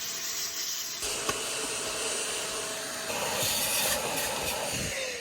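A Deerma DX700 handheld vacuum whirs steadily at close range inside a car, its hiss shifting as the nozzle moves across flooring, seats and dashboard, with a brief knock partway through.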